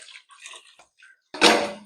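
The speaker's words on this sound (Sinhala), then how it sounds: "අපි දැන් වතුර දාන්න යන්නේ." Water is poured into a pot of Dindigul thalappakatti chicken biryani in one short, loud splashing gush near the end, after faint clinking and quiet handling sounds.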